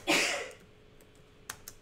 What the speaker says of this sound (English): I guess you got a extra bonus sneeze